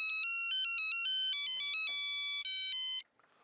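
A phone ringtone plays a bright, repeating electronic melody in short looping phrases, clear and alone, then cuts off abruptly.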